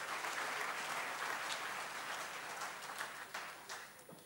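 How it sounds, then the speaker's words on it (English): Audience applause during a national budget speech in a parliamentary chamber, a steady wash of many hands clapping that fills the whole stretch and tapers off slightly near the end. "I think we should applaud all the health workers in our country."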